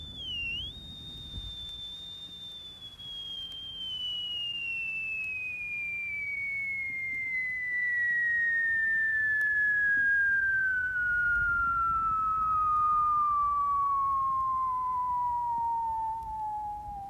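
A person whistles a long, pure, sustained tone that glides slowly downward in pitch across the whole stretch, clear and alone over a faint background hiss.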